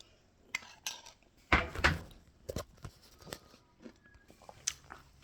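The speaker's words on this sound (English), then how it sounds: "I'm just having my cereal," Someone eating cereal from a bowl: a spoon clinks and scrapes against the dish in scattered bursts, with soft crunchy chewing between, quiet and close, no talk.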